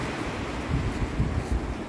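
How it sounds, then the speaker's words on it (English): Ocean surf rolling onto a beach at sunrise, a steady soft wash of waves with gentle swells, faint and alone with light wind. "I don't know if they can hear the waves"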